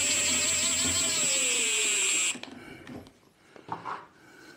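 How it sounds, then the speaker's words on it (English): A power drill-driver with a 4 mm hex bit turns a bolt while a Toro 60V Max power shovel is assembled: a loud, steady motor whine with a slowly falling pitch runs about two seconds and stops, followed by faint handling clicks. "I'm gonna use power tools."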